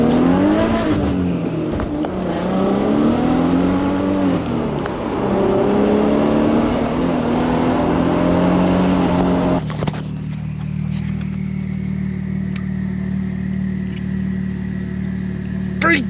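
An Audi A6 with a swapped LSA V8, set off on its first drive, roars loud and close with rising and falling revs for about ten seconds before settling into a lower, steady idle drone.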